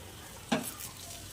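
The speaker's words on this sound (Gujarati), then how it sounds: "થોડો વઘાર તૈયાર થઈ ગયો છે, હવે ઉપર રેડી દઈએ।" Hot tempering is poured over rava besan dhokla, giving one short, faint burst of sizzle that fades quickly into quiet.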